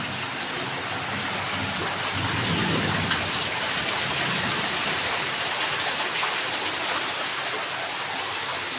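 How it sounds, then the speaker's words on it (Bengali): Heavy rain pours down in a flooded village, a dense, loud and unbroken hiss of water on surfaces. It swells slightly midway, and no voices are heard. "মানে ওই দেখো কীরকম বৃষ্টি হচ্ছে"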